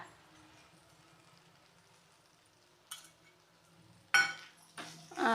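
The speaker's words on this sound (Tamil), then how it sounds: "மல்லி இலை தே சேர்த்து வதக்கிட்டு ஸ்டவ் ஆஃப் பண்ணிக்கலாம்" Meal maker chunks being sautéed with a sprinkle of coriander leaves in a pan for a spicy sukka, a low steady sizzle running throughout, broken by a brief clink near the middle and louder scraping, clattering stirs toward the end.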